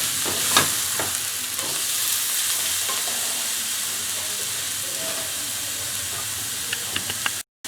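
Shark fish pieces for a kalupol curry sizzle and fry in a pan while being stirred, a steady close hiss with occasional scraping clicks of the spoon.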